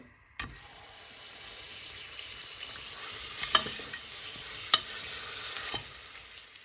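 Butter sizzles in a pan with whole spices (green cardamom, black pepper, cloves and cinnamon stick) for a steady, bright frying hiss, opening with a sharp clack and punctuated by a couple of small pops.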